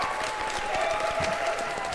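A short burst of applause sound effect, a dense patter of clapping lasting about two seconds at moderate loudness with no voices over it.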